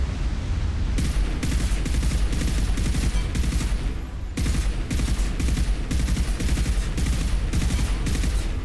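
Sustained rapid bursts of Revenant rifle fire in Mass Effect 2 during a sandstorm mission, loud and dense with only a brief pause midway before the heavy automatic volley resumes.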